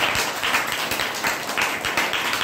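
An audience claps together during a health talk, a sustained burst of many hands with a few stronger pulses, moderately loud and heard on its own.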